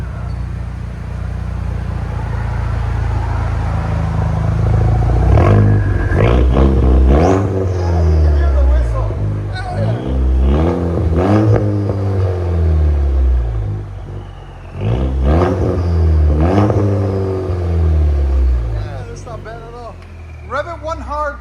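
A 2024 Chevy Colorado with a 2.7L turbo engine and straight-pipe exhaust revs repeatedly, loud and close, in rising and falling bursts with a deep rumble.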